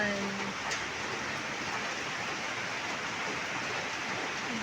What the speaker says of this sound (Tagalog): Maulan na naman ang panahon.